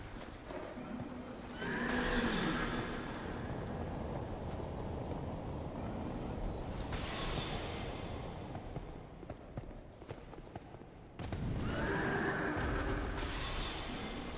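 A horse in a video game neighs and whinnies loudly in two bursts with clip-clopping hooves between them, over steady game ambience.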